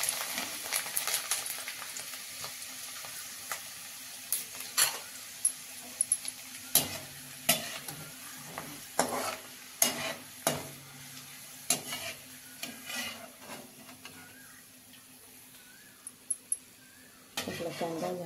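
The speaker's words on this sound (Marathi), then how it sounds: "आता आपण कांदा थोडा तळून घेणार आहोत." Onion frying in oil in a pan for a poha chivda, with a soft background sizzle broken by intermittent sharp scrapes and clinks of a spoon stirring against the pan, close and moderately loud.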